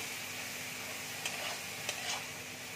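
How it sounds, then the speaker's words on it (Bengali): Tomato puree frying in a pan for an egg curry, a close, steady sizzle with a few soft stirring scrapes and no talk. "টমেটোর পিউরি দেখো দিয়ে দিচ্ছি। তো ভালো করে ভেজে নেব আমি।"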